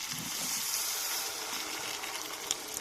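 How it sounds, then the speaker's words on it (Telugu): Water poured into a pan of chicken curry makes a steady rushing gush for a few seconds, moderately loud and close, with no voices. "ఇప్పుడు తగినంత వాటర్ పోసుకోవాలి."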